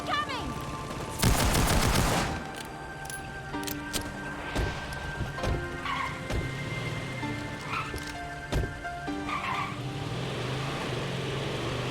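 Rapid turret gunfire in the Payday 2 video game, a dense loud burst of shots near the start, then scattered impacts and intermittent shots over steady game ambience.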